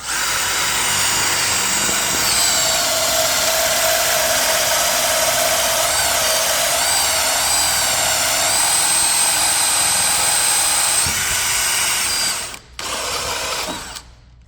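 A power drill with a 1 1/8 inch bit cuts through an arcade cabinet control panel, whining loudly and steadily for about twelve seconds, then stopping briefly before a short final burst.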